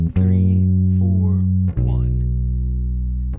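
An electric bass guitar plays a chorus line of a few long, sustained low notes, loud and close, each note ringing steadily before the next, with no voices.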